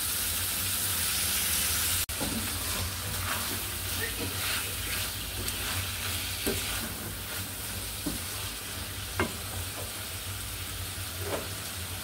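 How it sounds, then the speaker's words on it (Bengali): Vegetable curry fries in spices in a pan, sizzling steadily and quietly while a spoon stirs it with occasional soft scrapes and taps. "আমি তরকারিটাকে একটু ভেজে নেব ভালো করে, সবজিটাকে একটু মশলার মধ্যে ভেজে নিব।"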